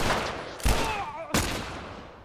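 Two sharp gunshot bursts ring out during combat in the video game The Last of Us Remastered on PS5, each followed by a decaying echo, with no talk over them.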